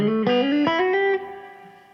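A short run of plucked guitar notes steps upward, each note ringing into the next before fading out.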